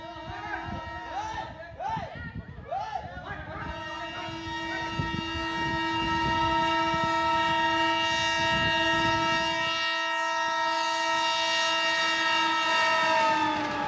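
A train horn blares in long sustained tones as a train approaches a crowd of horses standing on the tracks, the horn steady and loud over rumbling rail noise, with short wavering honks early on.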